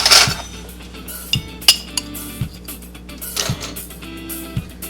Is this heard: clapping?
no